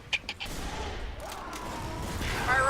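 A rocket-jumping explosion in Team Fortress 2 rumbles under scattered battle noise and sharp clanks, with a rising roar near the end that grows louder.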